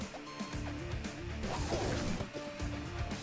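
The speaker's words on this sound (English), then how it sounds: "The girl's swing cuts through the air and smashes into the ground" A heavy swing smashes into the ground in the Fate/Stay Night video game, a loud crash with scattered debris bursting around the middle of the brief moment, over a dense game soundscape.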